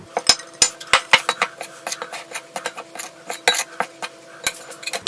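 Tempeh batter is stirred with spring onions in a bowl, giving rapid, repeated clinks and scrapes of a utensil against the bowl in a steady, busy rhythm, close and fairly loud.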